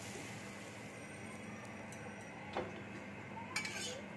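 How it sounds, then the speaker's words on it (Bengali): Cooked stuffing is moved onto a plate, with a few faint metallic clinks of a utensil against the dish over a quiet kitchen background. "এবার আমি প্লেটের মধ্যে তুলে নিচ্ছি"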